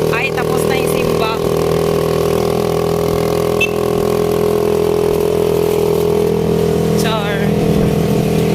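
A mountain-use motorcycle engine idles close by with a loud, steady throb, while voices and a few high chirps come and go over it.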